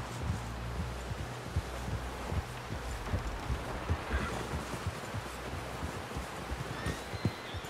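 Horse hooves clop at a steady walking rhythm in Red Dead Redemption 2, soft and fairly close, with faint rustling in the background and no talk.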